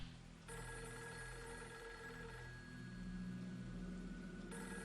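A telephone rings in the horror video game Fatal Frame III, a quiet repeating electronic ring with a steady tone held under a low background hum.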